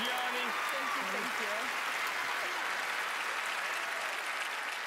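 A theater audience applauds a magician named Gianni on a televised magic competition show, a dense, steady wash of clapping filling the whole stretch, with faint voices mixed in.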